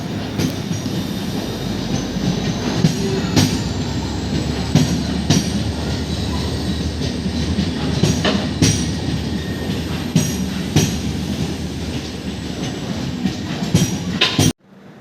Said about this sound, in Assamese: ফাইনেলি 1 ঘণ্টা 25 মিনিট লেট হোৱাৰ পাছত এয়া কামৰূপ এক্সপ্ৰেছ আহি পাইছেহি